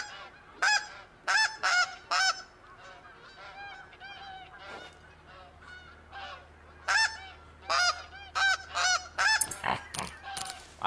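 Snow geese honking in theHunter: Call of the Wild at Askiy Ridge, a flock sending repeated bursts of loud, nasal honks in clusters, some close and some farther off, with no talking over them.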